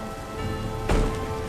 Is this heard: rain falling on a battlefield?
yes